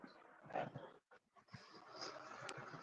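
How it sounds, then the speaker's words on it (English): A small dog whimpers softly nearby, giving one brief high whine among faint snuffles and shuffling over a quiet room hum. "Here's my little dog."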